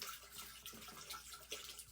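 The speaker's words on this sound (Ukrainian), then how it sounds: "Наливаємо десь на одну треть горщика, занурюємо." Settled room-temperature water pours into an orchid pot, a soft continuous splashing and trickling, quiet and close with slight bubbling variations.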